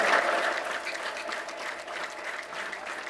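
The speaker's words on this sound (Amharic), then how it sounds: "እስቲ ጭብጨባ ለእግዚአብሔር።" A church congregation claps together in praise, producing a dense, steady round of applause from many hands that starts strongest and continues evenly throughout.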